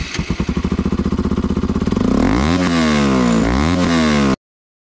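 Bajaj Pulsar RS 200 motorcycle fitted with an Akrapovic exhaust, heard close up revving: a rapid putter that climbs into a loud, rising engine howl, holds with a couple of pitch dips, then cuts off abruptly.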